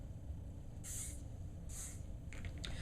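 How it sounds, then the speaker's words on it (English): Hairspray is sprayed onto hair in short aerosol bursts: two distinct hissing sprays about a second apart, then several quicker faint puffs, close and alone over quiet room tone. "I'm going to take my hairspray, I'm going to spray"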